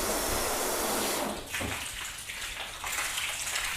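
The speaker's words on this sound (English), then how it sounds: "So just a quick rinse so you guys can see the 3 in the middle at once." A hose rinses water over car panels waxed with Turtle Wax, Collinite and Bowden's, a steady broad spray that dips briefly partway through, then continues without talk.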